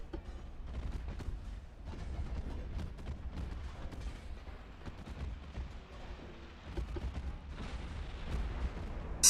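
Warship main guns fire in the naval battle game Ultimate Admiral: Dreadnoughts, a steady rumble of heavy booms and rolling detonations at moderate distance, layered thickly for several seconds.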